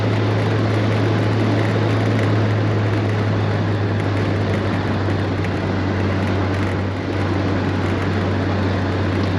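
A 1960 Triumph TR3A roadster, a roughly 105-horsepower British sports car, runs with a steady, loud engine drone and a strong low hum. The sound holds constant for the whole stretch, with no talk over it.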